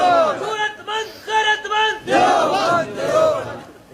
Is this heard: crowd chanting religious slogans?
yes